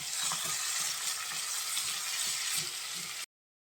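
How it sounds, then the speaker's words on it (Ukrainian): Onions fry in a pan with a constant, loud hiss and crackle that stays even for about three seconds before cutting off abruptly. "зараз трошки цибулька теж підсмажиться"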